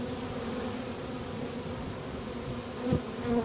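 A honeybee swarm hums with a steady, dense buzz that fills the air, continuous and close, with a slight swell near the end.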